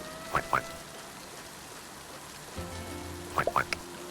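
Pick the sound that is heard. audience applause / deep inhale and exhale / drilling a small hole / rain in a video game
rain in a video game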